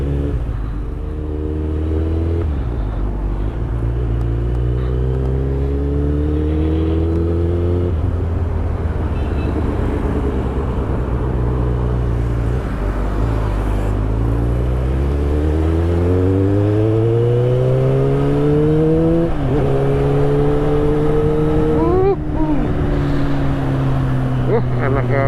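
Kawasaki Z800 motorcycle engine revving hard under throttle, loud and close, climbing through several rising pitch sweeps with gear-change dips over about twenty-five seconds of riding.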